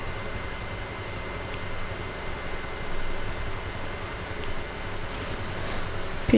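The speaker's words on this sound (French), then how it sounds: "Allez, pose-toi l'hélico" Helicopter in GTA 5 Online, a steady, dense rotor and engine roar holding loud and constant throughout, with slight swells and no voices over it.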